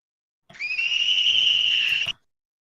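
A vocoded scream sample laid over guitar rings out as a sustained, bright, piercing screech lasting about a second and a half, rising in and then cutting off abruptly, alone with no talk.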